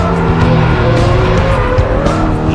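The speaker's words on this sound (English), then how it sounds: "Daniel Sylvester just about gets his car straightened up again." A race car skids through a turn in a motor race, its engine roaring loud and close while tires squeal continuously in a sustained, wavering screech.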